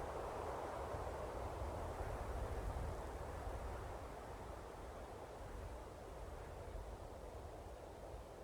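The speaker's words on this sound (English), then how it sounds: "it's because it's so windy outside, like everything's fucking moving" Wind blowing outside a house, a faint, steady broadband rush with slow swells and no voices.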